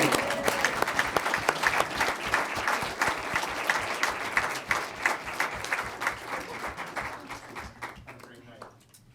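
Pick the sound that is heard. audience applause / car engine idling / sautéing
audience applause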